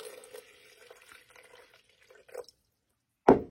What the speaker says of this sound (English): Fill the container with water up to the line.